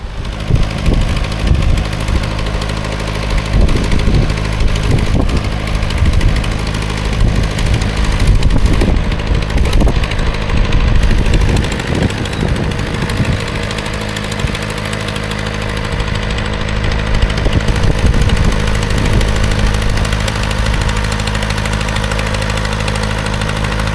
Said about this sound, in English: That must be one hell of a rusty tractor.